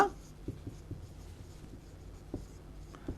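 A pen writes on paper during an online science tuition class, producing faint, close scratches and light taps in short, irregular strokes over quiet room tone, with no talking.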